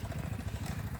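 Motorcycle engine running steadily with a low, pulsing mid-pitched throb as riders set off on a road trip, close and continuous with no talk.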